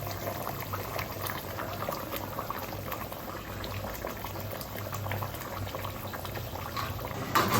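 Fish curry bubbles at a steady boil in a pot as pieces of fish are added, a dense continuous burbling, close and even throughout with no voice heard.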